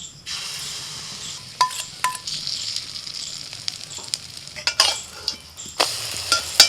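Egg batter with gram flour hits hot oil in a kadai and fries, a steady broadband sizzle with sharp clinks of a utensil against the pan scattered throughout; no one speaks.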